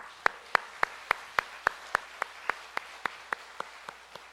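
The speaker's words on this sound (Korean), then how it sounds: "우리 하나님께 감사와 찬양의 박수 올려드립니다" Worshippers at a church's 45th-anniversary special dawn prayer service clap in unison, about fourteen crisp, evenly spaced claps in a steady rhythm, fairly near and with no talking over them.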